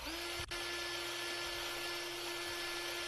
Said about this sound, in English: let's try this drill on the little vault